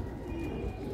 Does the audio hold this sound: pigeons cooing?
yes